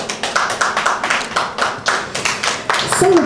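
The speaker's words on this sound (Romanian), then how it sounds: "aplauze tuturor!" Rhythmic clapping by a small group at a birthday celebration, roughly four claps per second in an even beat, close and loud, with a brief voice near the end.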